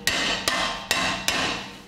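Hammer taps on a brake disc during front brake work on an Opel Vauxhall Astra in a garage: four sharp metallic strikes, evenly spaced, each ringing briefly, close and clear with no talk.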